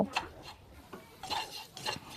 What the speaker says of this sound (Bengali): সুজিটিকে এখন আমি ভালো করে ভেজে নেব